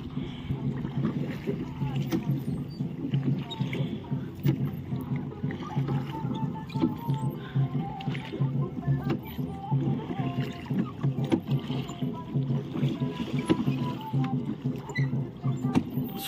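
A rowing boat moves across Naini Lake in the early morning with no other boats out, its steady low water and hull sound continuous throughout, with some light wind and a voice talking.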